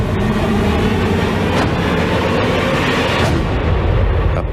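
A train in the Murder on the Orient Express film trailer: a loud, dense rumble of rolling rail noise with whooshing swells, constant throughout before thinning slightly at the end.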